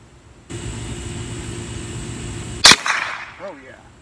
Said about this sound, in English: But I'm going to shoot a magazine here